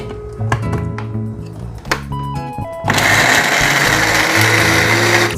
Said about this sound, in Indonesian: Sekarang saya akan menghaluskan bahan yang sudah saya potong-potong tadi, yaitu cabai merah juga dengan bawang putih